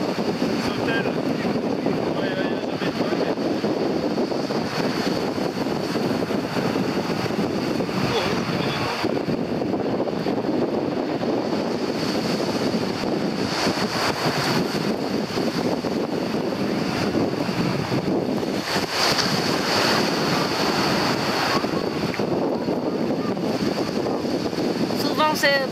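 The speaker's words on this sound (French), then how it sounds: "il y a souvent des vagues ici." Sea waves break on a shore in Vietnam: a continuous wash of surf with gusty wind buffeting the microphone, sustained throughout with gentle swells in loudness, and voices now and then beneath the noise.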